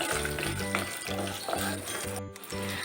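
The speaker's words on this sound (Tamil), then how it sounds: "சின்ன வெங்காயம் அப்படியே கலர் மாறணும், அந்த அளவுக்கு வதக்கிக்கலாம்." Garlic and small shallot-type onions sauté in a pan, a steady close sizzle broken by regular stirring scrapes roughly every half second.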